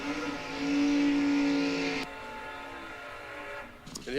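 At a drag strip start line, a 1966 Impala convertible drag car holds a loud, steady high-rpm rev, then drops abruptly to a lower idling drone before a brief final burst.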